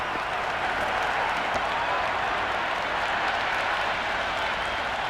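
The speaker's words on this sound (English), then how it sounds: "It's almost palpable, the excitement emanating from this crowd at the moment." Steady crowd applause fills a cricket stadium in the Cricket 26 video game, a dense, continuous wash of clapping that holds evenly throughout without pause.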